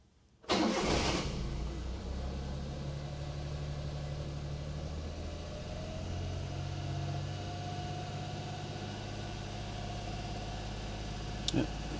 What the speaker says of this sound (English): we're going to go ahead and start this thing up. This is going to be a cold start.